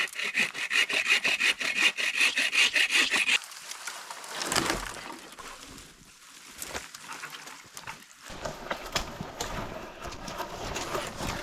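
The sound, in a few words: saw cutting small trees for firewood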